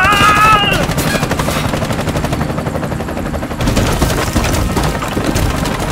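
Heavy automatic gunfire and explosions in the video game Bright Memory: Infinite, a loud continuous barrage of rapid shots and booms over dense in-game noise, with a brief electronic tone at the start.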